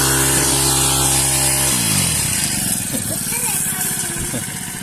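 A sprayer's small engine fitted with a modified nozzle runs steadily and loudly throughout, its drone shifting pitch partway through, with people talking over it.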